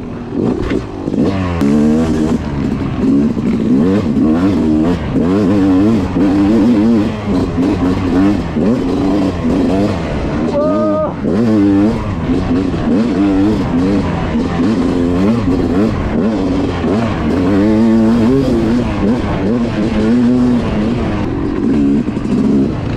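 Yamaha YZ dirt bikes, a YZ450FX and a YZ250X, ride through wooded trails, with engines revving and shifting continuously up close, loud and throttle-heavy throughout.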